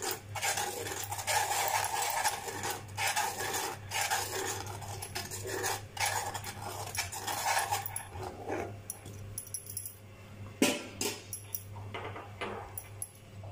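A spoon stirs a thickening sweet mixture in a pan, with repeated scraping and rasping strokes and metallic clinks over a steady low hum, turning sparser and more irregular toward the end.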